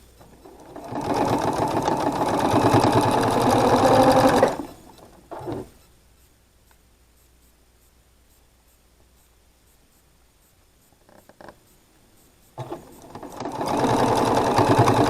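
A domestic sewing machine stitches quilt block pieces in two loud, rapid bursts, one at the start and one at the end, with a long quiet stretch between them marked by a few light clicks.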